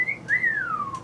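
A voice imitates the upland sandpiper's wolf whistle, a shorebird of the Saskatchewan grasslands: a single clear whistle that rises, dips, then climbs again into a long slow downward glide, close and alone.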